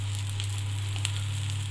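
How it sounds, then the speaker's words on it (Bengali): Fish roe mixed with chopped onion, chilli, salt and turmeric sizzles in hot oil in a wok, a steady, close frying hiss with a constant low hum beneath it. "মেখে নিয়েছি, এবার ভেজে নেব। কড়াইয়ে দিয়ে দিয়েছি,"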